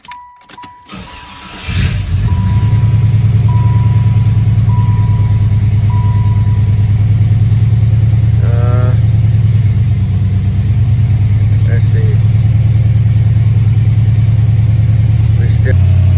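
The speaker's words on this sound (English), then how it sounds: "we'll go ahead and start the car up" After a brief cranking moment the engine of a Chevrolet Impala SS, just fitted with a new idle air control valve, catches and settles into a loud, steady idle running a little high, with a voice briefly speaking over the hum.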